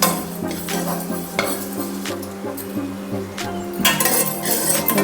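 White sesame seeds dry-roasting in a pan while a spoon stirs them, with repeated scraping and metallic clinks over a faint crackle and a low steady tone in the background.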